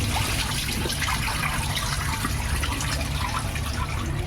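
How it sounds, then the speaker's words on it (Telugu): Water pours steadily over soaked cow horns being washed, a constant close splashing rush with no pauses and no talking. "మళ్ళీ మళ్ళీ ఒకసారి కడుగుతానండి శుభ్రంగా కడుక్కోవాలి"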